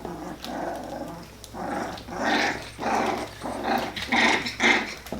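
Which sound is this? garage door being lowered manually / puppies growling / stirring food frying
puppies growling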